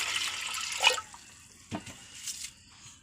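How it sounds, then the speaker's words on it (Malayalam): Water is poured into a pot of onion sambar in a home kitchen, a short faint splashing hiss followed by a few soft sloshes and drips. "പാകത്തിന് വെള്ളം ഒഴിക്കണം"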